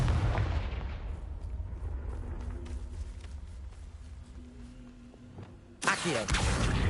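Confringo fire spell from Hogwarts Legacy: a loud booming blast opens, its rumble trails away over several seconds, then a second sharp explosive burst hits near the end.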